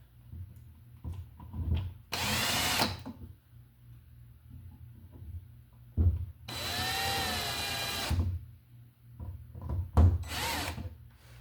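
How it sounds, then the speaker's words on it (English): A power drill drives a screw into an electrical box in three loud, whirring bursts of about one to two seconds each, separated by quiet pauses with faint handling clicks. "And we can screw it into our box."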